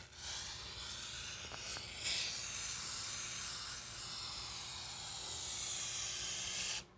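An aerosol spray can applies another coat of paint to a car wheel rim, giving a steady close hiss that runs almost the whole time and cuts off sharply at the end.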